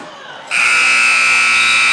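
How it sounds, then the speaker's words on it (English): A loud, harsh electronic buzzer at a basketball game blares suddenly after a brief quiet moment and holds steady to the end. "that's a loud buzzer right there"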